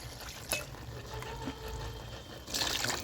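Tamarind water is poured and stirred into a village-style fish curry, making soft, close liquid trickles and sloshes with a brief louder splash near the end.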